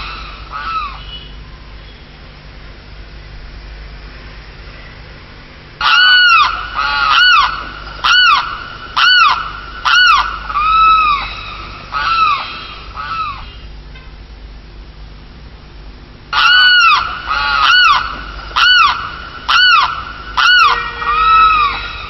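Loud goose-like honking calls from birds in flight, arriving in two rhythmic bursts of repeated honks separated by a quieter stretch of faint background noise.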